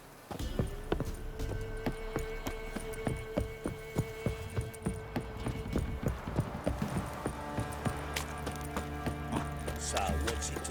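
Horse hooves clip-clop at a steady trotting rhythm in the video game The Witcher 3, set in the city of Novigrad, with ambient background sound and faint voices.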